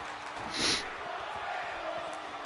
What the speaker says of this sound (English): The crowd chanting for tables and their champion